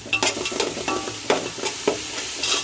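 Biryani masala and garam masala being stirred in a frying pan while cooking prawn dum biryani: repeated scraping spoon strokes against the pan over a soft, steady sizzle, close by and with no talking.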